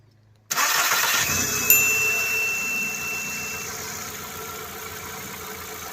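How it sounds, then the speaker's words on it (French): A Seat Leon engine cranks and catches after a secondary air pump was refitted, then settles into a steady idle with a brief flare at the start, loud and close with no talk. "l'opération est un succès, le véhicule redémarre"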